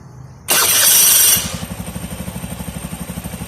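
An old car's engine is cranked by a replacement starter motor, a sudden loud whirring crank lasting about a second that then settles into a steady rhythmic idle, close up and with no talking.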